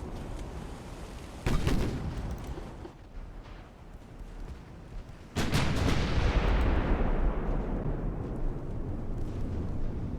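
Heavy naval gunfire in the warship game Ultimate Admiral: Dreadnoughts, with smaller secondary guns engaging cruisers: deep rumbling booms, a sharp blast near 1.5 seconds and a louder sustained barrage from about 5 seconds that slowly decays.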